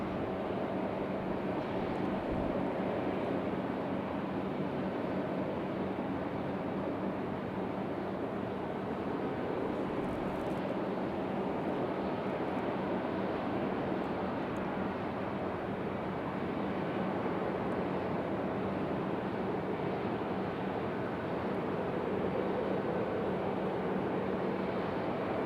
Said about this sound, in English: Smooth touchdown for Breeze.